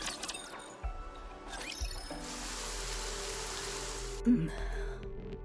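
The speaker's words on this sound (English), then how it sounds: "Man, it's really pouring." Heavy rain pouring down, a dense steady hiss of rainfall that swells in and holds evenly for a few seconds, preceded by a couple of dull thuds and scattered sounds.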